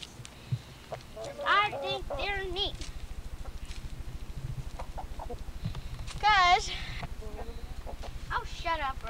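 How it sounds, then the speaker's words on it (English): Chickens cluck and squawk in short bursts while a person talks nearby over a steady low hum. "I want to show you these chickens."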